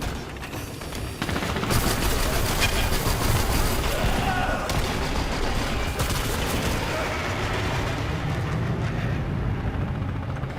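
Gunfire from the online shooter Dirty Bomb: dense, continuous rattling bursts of automatic weapons and explosions fill the whole stretch, loud and sustained with little pause.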